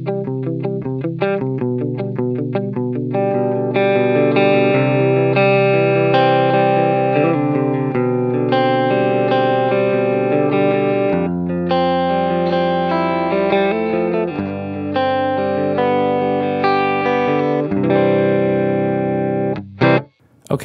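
Clean electric guitar tone run through an Axe-Fx II with a compressor, sustained strummed chords and picked notes ringing steadily and loud for about twenty seconds, with no voice over them.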